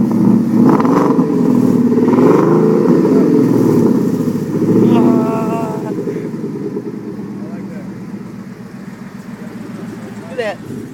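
A Ford Mustang GT V8 revs loudly up close, a sustained low roar that rises and falls, with excited talking over it throughout.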